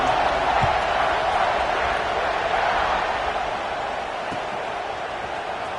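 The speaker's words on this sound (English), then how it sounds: "this crowd is buzzing after that last score" Stadium crowd at a college football game, Vanderbilt the opponent, buzzing after a score: a steady, broad roar of many voices filling the space, with a commentator talking over it.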